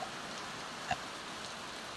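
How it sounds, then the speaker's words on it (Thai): Heavy rain falling around solar panels beside a house with no gutter, a dense, even hiss of downpour with a single brief tap of a drop standing out briefly. "ดูให้ดูฝนตกนะครับ ตกแรงมากนะครับ"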